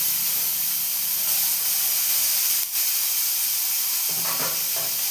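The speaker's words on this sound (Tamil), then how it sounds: "தக்காளி போட்டு தக்காளி நல்லா வதக்குங்க" Tomatoes sautéing in a pan for Mysore rasam give a steady close hiss and sizzle, with a few faint stirring scrapes near the end.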